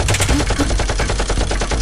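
Rapid bursts of Nerf blaster fire crackle loudly and close in a fast, continuous string, like automatic shots during a mock battle.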